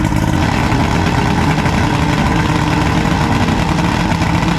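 An outboard engine on a restored bass boat runs at a steady, loud idle, its close, even rumble with no voices.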